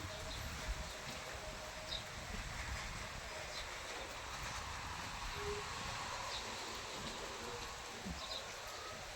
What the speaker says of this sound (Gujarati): આમ જો પવન કેવો ખરેખરનો થયો છે જો